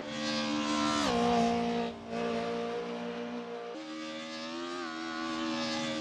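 Mercedes 190E Evo 2 DTM race car from the early 1990s in a racing video game, its engine revving loud and steady with harmonic tones that climb and drop through gear changes and a brief lift off the throttle.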